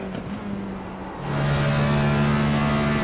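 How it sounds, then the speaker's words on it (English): A race car engine in the sim racing game iRacing drones steadily, then swells into a louder, sustained buzzing whine with a constant pitch, heard alone without talk. "iRacing sounds are unique to each car"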